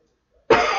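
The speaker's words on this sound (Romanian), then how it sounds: "Mă scuzați foarte mult, dar tușesc în continuu." A single sudden cough bursts out after near silence and carries on roughly through to the end, loud and close.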